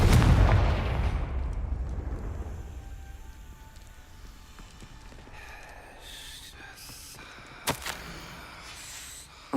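A Confringo blasting spell fires in a video game, a heavy booming explosion at the start that rolls off into a long fading rumble, followed by quieter sparkling effects and a sharp crack.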